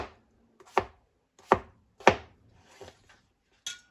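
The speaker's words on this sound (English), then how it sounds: "we're gonna just cut it into cubes" A knife chops a peeled potato into cubes on a cutting board: four sharp, close chops spaced under a second apart, then a lighter tap, with no talking.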